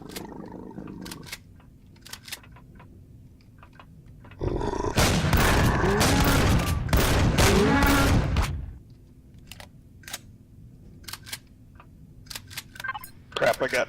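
Rapid automatic gunfire bursts for about four seconds as a spawner is shot in the space survival game Empyrion: Galactic Survival. Clicks and a short voice are heard before and after the burst.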